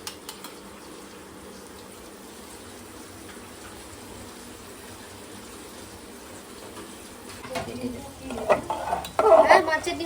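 Onion frying in a pan in a busy home kitchen gives a faint, steady background sizzle, then louder clattering stirring and bubbling bursts toward the end.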